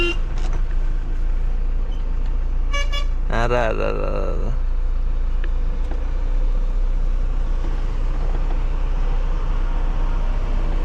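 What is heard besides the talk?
traffic with car horns honking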